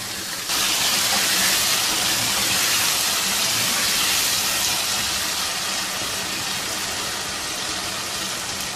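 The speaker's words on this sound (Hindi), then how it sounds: "अब ऐसे ही 2-3 मिनट अच्छी तरह से भून लेंगे।" Potatoes frying in a pan for Pakistani-style chicken aloo shorba, a steady loud sizzling hiss that starts abruptly and holds evenly for several seconds with no talking.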